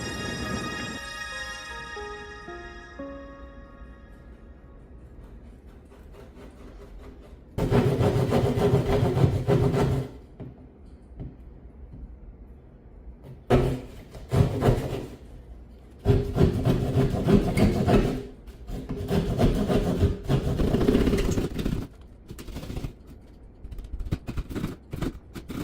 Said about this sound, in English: Let's get that drywall saw up.